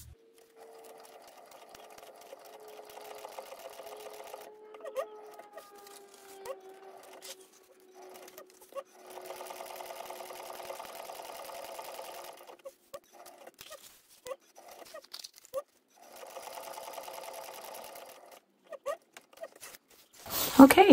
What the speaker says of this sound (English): now I'm going to take this to the machine, and I'm going to top stitch the 3 sides of these pockets onto the panel.